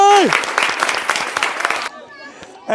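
Audience applause at a comic village football game, a burst of quick clapping close by with a short tone at the start, then a sudden drop to a quieter tail with faint voices.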